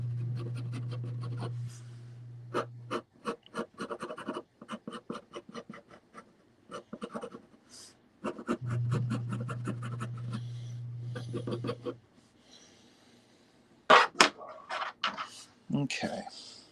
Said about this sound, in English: I want to go back in with my pencil and figure out